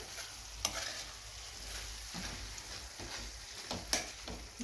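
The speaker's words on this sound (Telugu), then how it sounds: "కాసిన ఉల్లిపాయలు వేసి ఇదిగో ఇలా గెలికేస్తున్నాం" Onions and tomatoes fried in a pan for tomato biryani, stirred with a utensil: a soft constant sizzle with a few sharp scraping clinks of the spoon against the pan, close and fairly quiet.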